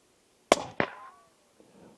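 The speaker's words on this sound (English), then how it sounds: "Well, sure enough, it exploded." A 350 grain 8.6 Blackout bullet strikes a water-filled half-gallon milk jug, giving a sharp distant crack followed by a second impact pop and a brief fading splash.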